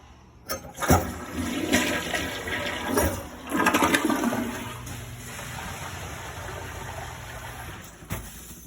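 A toilet flushes into a Jackel-brand sewage pump just fitted with a new cover, the gush of water swelling over a few seconds, then settling into a steady pumping drain and trickle close by.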